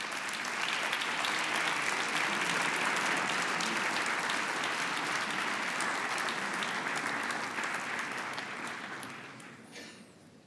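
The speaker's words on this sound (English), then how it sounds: "Once again, another round of applause for the President." Sustained applause from a large conference audience welcoming Romanian President Klaus Iohannis and European Investment Bank President Werner Hoyer at a keynote event, steady and dense throughout before fading out near the end.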